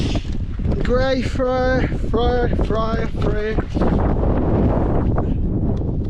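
Strong wind buffets the microphone in loud, roaring gusts on a mountain summit in the Coniston fells while a person talks over it.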